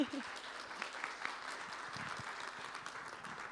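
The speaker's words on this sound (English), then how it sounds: "Big round of applause for Raakhi." An audience at a climate education event gives a round of applause, a steady, moderately distant clapping that continues under a speaking voice.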